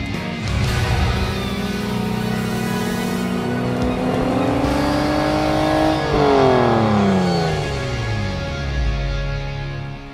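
A car engine roars as it accelerates hard, pitch rising steadily, then sweeping back down in a loud, close surge.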